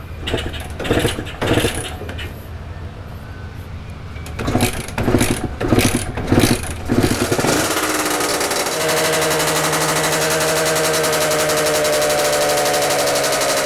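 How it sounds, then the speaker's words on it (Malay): A motorcycle engine, just checked at the spark plug cap, sputters and cranks in uneven bursts, then catches and settles into a loud, steady close-up idle with a rising hum. "Motor ni dah hidup sebelum Zuhur geng."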